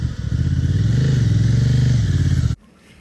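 Honda Transalp 750 adventure motorcycle riding slowly through sand, its engine a steady close drone with a slight rise in pitch midway, cutting off abruptly near the end.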